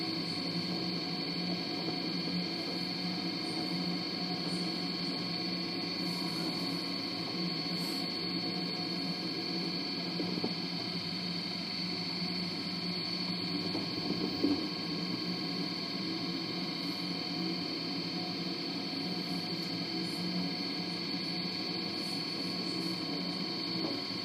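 An LG DirectDrive F1496AD 6-Motion washer dryer runs a fast tumble during its drying cycle, giving a steady low hum and electrical whine with faint ticking and occasional soft knocks, continuous and fairly quiet throughout.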